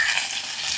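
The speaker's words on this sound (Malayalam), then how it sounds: "അവസാനമായിട്ട് ഇതില് കുറച്ചിങ്ങനെ വേപ്പിൻ്റെ ഇല ഇങ്ങനെ ഇടും. എന്നിട്ട് ഇത്തിരി പച്ച വെളിച്ചെണ്ണ." Curry leaves and raw coconut oil sizzle in a pan of sardine fish curry, a steady, bright hiss that carries on unbroken through the short moment with no voices.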